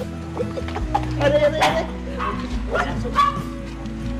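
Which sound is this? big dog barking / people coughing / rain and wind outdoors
big dog barking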